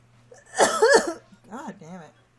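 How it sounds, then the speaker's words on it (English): A single harsh cough bursts out, followed by a couple of throaty, voiced rasps as the cougher clears up, close and fairly loud. "So much coughing."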